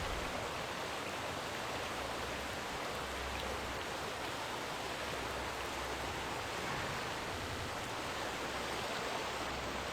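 Loud, steady rushing of flowing water in the Shroud of the Avatar video game, a dense continuous wash filling the whole clip with no talk over it.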